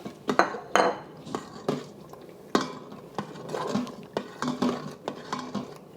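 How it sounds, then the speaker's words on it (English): Green onions stirred into a thickened, gravy-like sauce in a pot for Chinese beef brisket on saute mode, heard as irregular clinks and scrapes of a spoon against the pot with soft bubbling between them. "We're going to add our green onions into the sauce just to heat them through."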